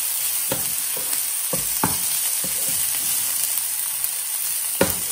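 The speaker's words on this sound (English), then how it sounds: "So we will let the onion sauté a little bit." Onion sautés in a pan over medium heat for an Indian-style zucchini dish, giving a steady close sizzle with scattered crackles and a few louder pops, with no voices.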